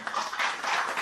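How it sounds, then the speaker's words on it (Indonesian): Brief, dense applause from an audience at a school workshop, a steady crackling wash of many hands clapping at once with no voices over it. "Tepuk tangan untuk beliau."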